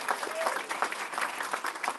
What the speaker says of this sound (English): A round of applause for our saxophones.